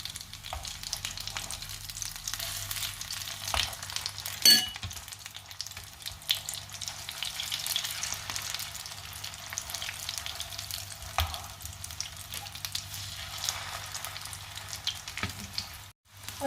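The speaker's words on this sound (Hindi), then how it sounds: "ये मैं तेज़ आंच पे ही फ्राई कर रही हूँ" Potato and chicken tikki fry on high heat, a close, steady crackling sizzle of hot oil with a few sharp spits and clinks, no voices.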